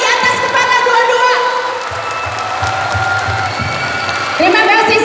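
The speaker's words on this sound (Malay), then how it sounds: "Tepuk tangannya di atas kepala dua-dua." An audience at an Indonesian civic outreach session claps with hands raised above their heads, a crowd applause mixed with cheering and shouts while a voice speaks over it through an amplified system.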